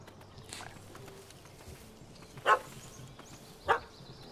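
Two sharp, separate dog barks from a puppy in The Witcher 3: Hearts of Stone, spaced about a second apart over a quiet, rustling outdoor background.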